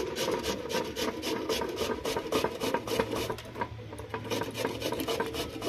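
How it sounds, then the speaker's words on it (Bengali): Large white winter radish rubbed against a grater, a steady rasping scrape repeating in quick strokes, close and alone with no talking. "এটা একদম বড় বড় সাদা সাদা মূলো। এটাকে আমি একটু ঘষে নিই।"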